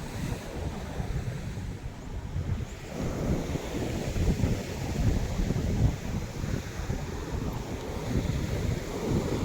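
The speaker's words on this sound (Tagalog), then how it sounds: "Dagat na ho to, mga kaibigan" Sea surf rolling onto a shore where small wooden outrigger boats rest, a steady broadband wash with wind buffeting the microphone, swelling slightly louder toward the middle and continuing without speech.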